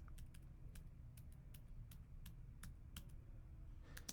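Typing on a computer keyboard at close range, a steady run of light, quick key clicks over a low background hum.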